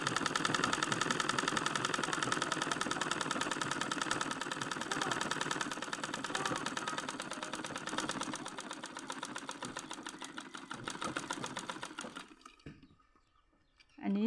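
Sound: sewing machine stitching fabric for Hmong trousers

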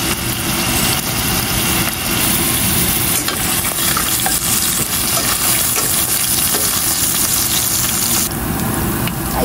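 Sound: garlic sautéing in frying oil for adobo

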